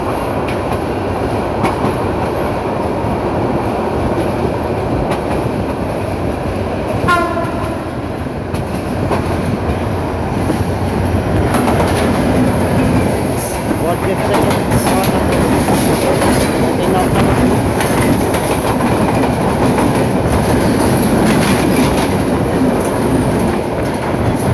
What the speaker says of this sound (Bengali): সামনের দিক থেকে আরো একটি ট্রেন আসছে দ্রুত গতিতে।